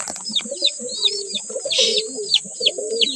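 Young pigeons, offspring of a pigeon named Sargo, give repeated short chirps and soft calls close by, with faint rustling between the bursts.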